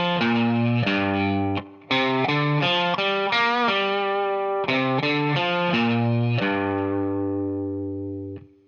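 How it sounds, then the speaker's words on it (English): Electric guitar with distortion and chorus plays a riff, a walking sequence of sustained, steady notes repeated twice, loud and close with no talk. "We're gonna start off with the iconic riff that sounds like this."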